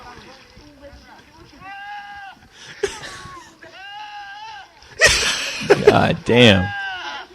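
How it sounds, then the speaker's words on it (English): A goat bleating in long, strained, almost human-sounding wails, repeated several times at close range, with people talking and reacting loudly in between. "That's a goat doing that? It's a goat."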